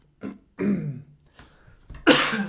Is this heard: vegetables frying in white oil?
no